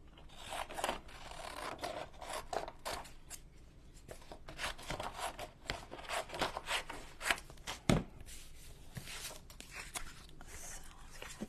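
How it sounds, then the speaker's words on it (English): Big scissors cut paper for a junk journal, crisp snips and rasping slides repeating irregularly at close range, fairly quiet, with no talk. "My big scissors."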